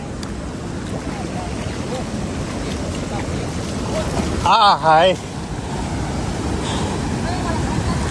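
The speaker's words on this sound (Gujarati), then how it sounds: "સીધા આપણે જમશીર ધોધમાં જઈએ" Jamjir waterfall at Jamvala in Gir, Gujarat, pours with a constant broad roar of rushing water, and a brief voice calls out over it.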